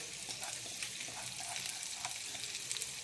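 Masala sizzles in hot oil for tomato rice, a steady close crackle with faint stirring, with no voices.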